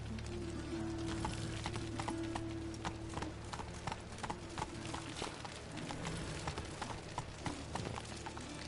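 The horse Roach trots in The Witcher, its hooves clip-clopping in a brisk, steady rhythm close by over a constant outdoor background, with a low hum throughout.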